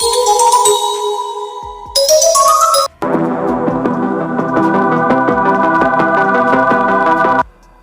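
Ringtone from a phone ringtone app: a bright synthesized melody plays loudly and alone, shifting after a few seconds into a busier, rhythmic tune with steady repeated notes before cutting off.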